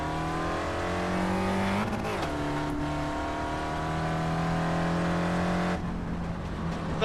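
Engine of a dirt racing car in a VR racing game, a loud steady drone with shifting harmonic revs, a brief rough burst partway through and a sudden change near the end, with no talk.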